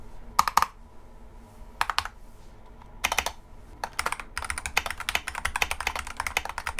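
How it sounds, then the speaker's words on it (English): Typing on a Vortex Macintosh replica keyboard fitted with Gateron G Pro retro white switches: close, crisp clacking keystrokes in scattered bursts, with pauses between runs before a denser, steady stretch of typing. "He turned me on to the Vortex Macintosh replica keyboard, which has Gateron G Pro retro white switches."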